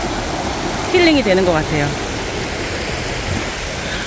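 Stream water flowing beside a riverside walking path along Tancheon in Seongnam, a steady broadband rush throughout, with someone speaking briefly over it near the start.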